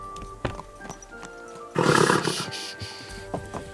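A horse in the video game Kingdom Come: Deliverance II gives a loud snorting whinny in the middle, with scattered hoof thuds and game noise around it and no talk.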